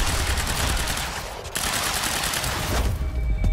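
Rapid bursts of automatic gunfire in the video game Quantum Break rattle almost continuously, loud and close, with a brief pause before the shooting resumes.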